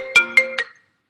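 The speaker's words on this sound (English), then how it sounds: "that's somebody's phone" A phone ringtone goes off during a meeting, three short bright melodic tones in quick succession, fairly loud and close, then silence.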